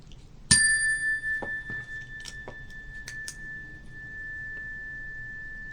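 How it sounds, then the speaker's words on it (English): A single chime is struck once in a quiet room, its bright, clear tone ringing out and sustaining for several seconds as it slowly fades, with a few faint knocks in the background. "please do ring the chime for our next guest"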